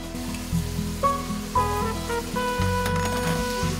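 Greens (namul) hiss and sizzle as they are dropped into a hot pot in a home kitchen, a steady frying crackle with soft stirring, under background music.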